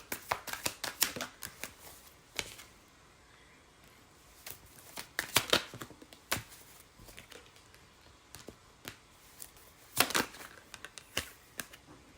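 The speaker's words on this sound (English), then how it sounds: "I'm just going to pull a couple cards from a different deck just to close this energy out." A deck of tarot cards is shuffled up close in repeated crisp riffling bursts separated by short pauses, with no voices.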